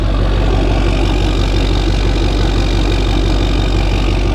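A 2007 LBZ Duramax diesel truck with a 5-inch downpipe-back Magnaflow exhaust idles loudly and steadily up close, a deep throbbing rumble with a constant rhythmic pulse throughout.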